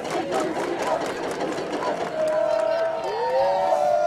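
Stadium crowd at a UCSB vs UCLA college soccer match: a broad, loud roar of many voices, with whistles and sustained tonal cheering that swell near the end, and talk in the foreground.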